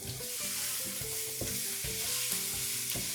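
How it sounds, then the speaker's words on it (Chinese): Ginger, garlic and chili peppers stir-frying in hot oil in a wok, with a steady close sizzle and repeated rhythmic scrapes and clinks of a spatula against the pan, no voices. "開小火煸炒出香味兒"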